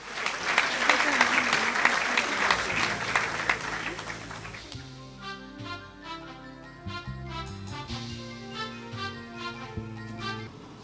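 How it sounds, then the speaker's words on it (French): Audience applause for two award-winning artists at a ceremony, loud dense clapping for about five seconds, then fading under music with a steady beat and melodic lines. "On les applaudit tous les deux"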